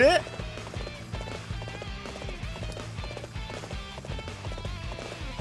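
Horse hooves gallop in a steady clip-clop rhythm in the video game Dynasty Warriors 8, close and continuous at moderate volume, with a brief whinny-like burst at the start and faint game sounds underneath.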